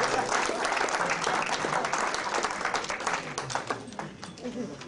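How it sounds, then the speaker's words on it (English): Audience applause at a Toastmasters speech club meeting, dense and steady clapping from a room full of people that stays loud for about four seconds and then begins to thin and fade. "Please give him one round of applause for a wonderful job."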